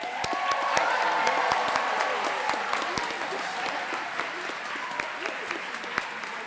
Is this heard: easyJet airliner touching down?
no